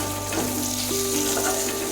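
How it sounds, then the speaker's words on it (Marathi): Finely chopped coriander hits hot tempering oil for Maharashtrian pithla and sizzles in a steady, close, continuous fry with no voices. "आता आपल्याला बारीक चिरून घेतलेली कोथिंबीर टाकायची आहे"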